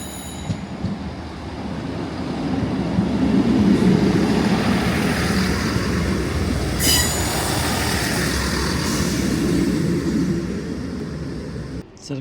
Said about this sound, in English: So the Class 158 has arrived on platform 4